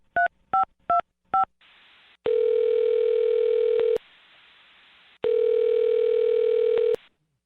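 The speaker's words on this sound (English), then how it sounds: "I'm going to dial her phone number right now" Four quick touch-tone dialing beeps on a telephone call, followed by two long, steady ringback tones separated by a pause. All of it is clear and close, with no talking.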